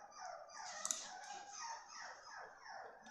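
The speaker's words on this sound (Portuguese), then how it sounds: "Cachorrada chorando ali." Several dogs whimper and howl in the distance, giving faint, plaintive rising and falling cries that overlap in waves, with no speech.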